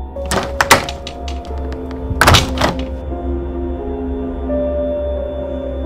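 A window is shut in the animated PAW Patrol adventure, giving a few hard thunks and a knock near the start and another thud around the middle over a steady low hum and soft music.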